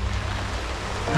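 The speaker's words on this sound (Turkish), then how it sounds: "Yağmur iyice arttırdı." Heavy monsoon rain falling on a steep mountain trail, a steady dense broadband hiss that stays loud and close from start to finish, with no voices.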